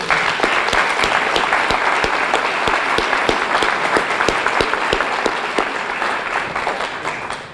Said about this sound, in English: Can we give these guys a round of applause, please?